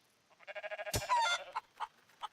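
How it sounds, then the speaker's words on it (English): Chicken in the video game Rising World clucking in a quick run of close, rhythmic clucks, then a sharp squawk and a few scattered clucks afterward, heard alone. "Wow, that's one robust chicken."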